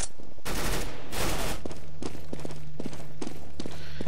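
Galil rifle fire in Counter-Strike: Global Offensive on the Nuke map, with loud bursts at the start followed by a rapid rhythmic string of sharp single shots over a steady low hum.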